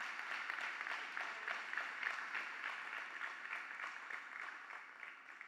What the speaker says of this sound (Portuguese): Posso ouvir a igreja aplaudir essa palavra